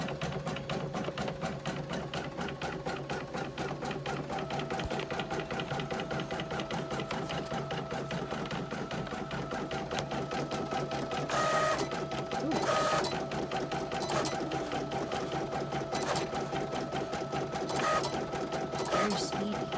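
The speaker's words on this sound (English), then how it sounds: "So let's start embroidering." An embroidery machine stitches onto water-soluble stabilizer at a small home business, a fast, steady mechanical chatter with a motor whine, running continuously with brief louder bursts under occasional talk.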